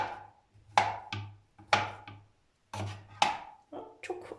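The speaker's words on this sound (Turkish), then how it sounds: "Bunu da şu kesme aparatıma yine iri iri doğruyorum." A peeled banana is cut into large chunks with a cheap kitchen cutting gadget. Several distinct knocks land on a hard surface in an uneven rhythm, close and fairly faint, with no talking.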